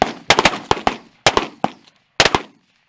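Shotgun blasts fired at geese during a fall goose hunt, a rapid cluster of loud, sharp reports from several guns followed by two more separate volleys, each ringing out briefly.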